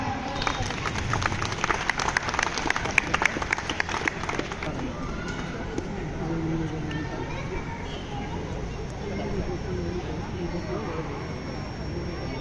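An audience at a Hindi-language event applauds, a dense burst of clapping for the first few seconds that fades into murmuring crowd noise and talk.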